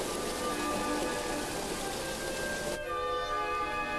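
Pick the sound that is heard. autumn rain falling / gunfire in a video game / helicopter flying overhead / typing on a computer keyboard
autumn rain falling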